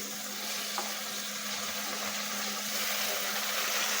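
Chopped tomato sizzles among frying onions in a pan, making a soft, steady hiss with a low hum beneath it, fairly quiet and with no one speaking.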